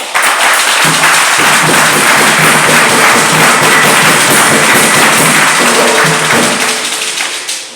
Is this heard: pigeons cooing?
no